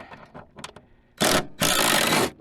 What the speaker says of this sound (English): I'm gonna try and ratchet these off